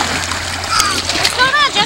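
Water splashes and sloshes as a dog is thrown into it during an outdoor child's birthday party, with voices and someone talking over the splashing.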